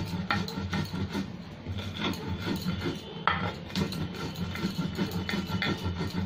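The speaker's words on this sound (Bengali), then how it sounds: "এবার আমি মশলাটা পিষে নিচ্ছি শিলের মধ্যে ভালো করে" Spices being ground on a stone shil slab for a green mango pickle made with jaggery: steady rough rasping and rubbing strokes, close and continuous, with occasional scraping knocks and no talking.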